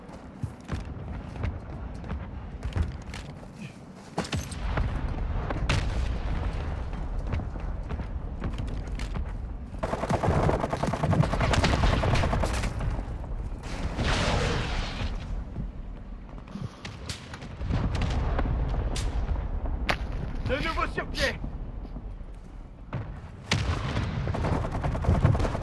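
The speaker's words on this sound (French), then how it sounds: "frappe de mortier hostile imminente." Heavy mortar strike and gunfire in the Warzone 2 DMZ video game, sustained loud booms and bursts of shooting with rumbling impacts throughout, dense and continuous from start to finish.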